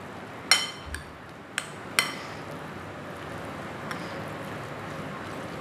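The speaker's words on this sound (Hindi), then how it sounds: "भून के अच्छे से दोनों चीज़ों को आप क्रश कर लें।" Roasted spices for chicken keema paratha crushed by hand: a few sharp pounding knocks with clinks in the first two seconds, then quiet room tone with a faint tap.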